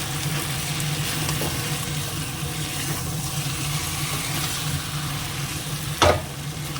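Mutton masala sautés in oil in a pan, a steady, close, crackling sizzle that runs throughout, with faint stirring scrapes and a brief sharp clatter near the end.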